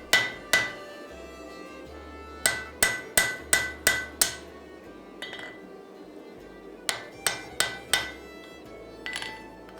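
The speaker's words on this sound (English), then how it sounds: "You can see me using the edges of the anvil to true up the blade profile." Hammer blows ring out on an axe blade being forged against the anvil edges, landing in bursts of two, then five, then four sharp metallic strikes with pauses between, close and loud with no talk.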